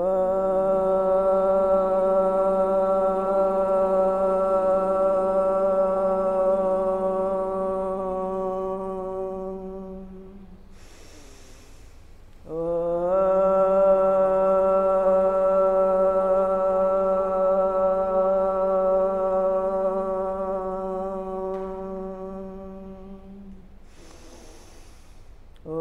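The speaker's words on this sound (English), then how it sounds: "We'll open the container of this class with the sound of three ohms." Two long, sustained Om chants from a group opening a yoga class, each a steady resonant drone fading gently, with a brief breath between and a third just beginning at the end.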